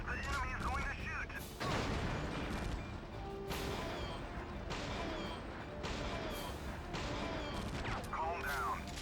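Enemy gunfire in Silent Scope on PS2 crackles in repeated heavy bursts of shots and crashing impacts, with frantic game voices and a whooshing effect sounding in between.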